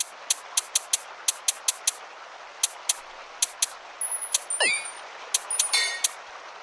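Video game skill effect from Absented Age 2: Ghostbound, with a fast run of sharp metallic dings and clangs ringing in an irregular rhythm, then a descending whooshing tone and a shimmering chime near the end.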